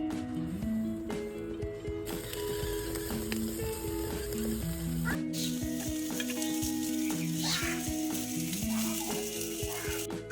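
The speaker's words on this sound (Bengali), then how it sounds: "মাংসটা পুরো ভাজা হয়ে গেছে" Chicken for tandoori sizzles and fries steadily in a pan, a continuous hiss with occasional stirring, and tonal music-like sounds running underneath.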